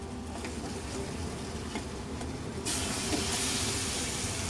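About a kilo of marinated chicken drops into hot oil tempering for a Malvani-style dish, and a sudden loud, steady hiss of sizzling takes over from the quieter kitchen background partway through.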